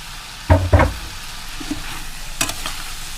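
Shrimp and garlic cloves frying with potatoes in a pan, a low sizzle with a couple of sharp stirring clatters early on and another near the end, no talking.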